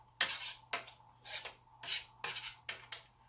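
A spatula scrapes the sides of a container during a batch of pepper jam, making about six rhythmic rasping strokes, close and fairly quiet, with no talking.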